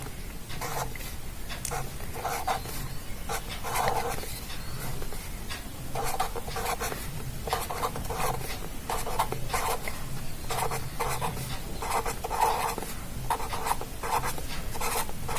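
Pen or pencil writing a multiplication table by hand on paper, a steady close scratching of quick strokes and pauses continuing throughout, with no talk.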